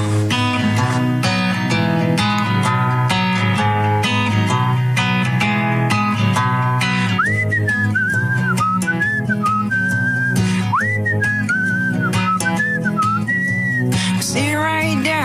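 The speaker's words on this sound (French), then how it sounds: "mais vous allez découvrir qu'on peut aussi siffler faux." Off-key whistling of a tune over a backing of instruments, the whistled melody wavering in pitch and carrying on steadily through the second half of a continuous music passage.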